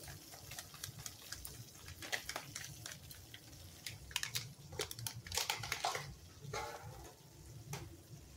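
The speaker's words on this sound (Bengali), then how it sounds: "এরপর একটু জল দিয়ে নিচ্ছি।" Water poured into a simmering spice masala with Kashmiri chilli powder and garam masala while cooking chicken tikka masala, a soft, uneven splashing and sizzling patter that runs steadily at close range without talk.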